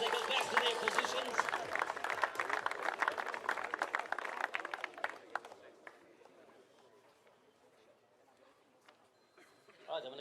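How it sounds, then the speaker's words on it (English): Crowd at an under-18 nationals presentation applauding the runners-up, a burst of close, busy clapping that fades steadily to near quiet. "Let's give them a round of applause, please, as they go back to their positions."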